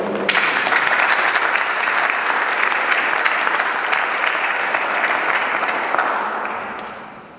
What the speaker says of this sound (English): I would like the MAAFA authors to give themselves a round of applause